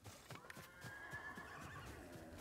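A horse in Ghost of Tsushima: Director's Cut whinnies with a rising, wavering neigh, mixed with clopping hooves and busy background noise.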